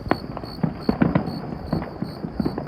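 Fireworks bursting on the Fourth of July, heard outdoors as a string of sharp, irregular pops and booms, some nearer and some farther, spaced about a beat apart with no talk over them.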